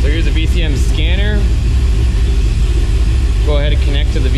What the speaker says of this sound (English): we can actually start the vehicle